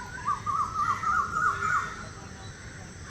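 Crows cawing in a string of harsh repeated calls along a city forest walkway trail on Malabar Hill, Mumbai, in the early morning, moderately close over a steady background hiss, then fading to quiet ambience.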